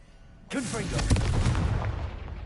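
Confringo fire spell explosion in Hogwarts Legacy, a sudden loud booming blast that rumbles on for a couple of seconds, with a voice heard as it erupts.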